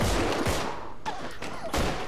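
Rapid bursts of heavy gunfire from a powerful weapon in the co-op zombie game Contagion, several loud close shots cracking in quick succession with short gaps between them.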